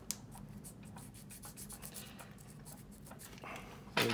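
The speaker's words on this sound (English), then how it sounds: "And just sanding it with these right here" Close, steady scratchy rubbing of sanding on small hard plastic model parts from a 1/48 F-16B kit, strokes repeating in quick succession, with a louder scrape right at the end.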